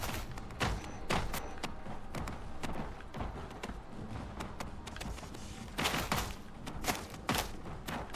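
Enemy gunfire in the video game Generation Zero, heard as repeated sharp bursts and thumps in clusters with short gaps, some of it fired through a wall, fairly loud over a constant game background.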